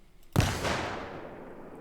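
An RPG rocket launcher fires in Arma Reforger, one sharp, loud blast with a long, fading rumbling tail, heard alone.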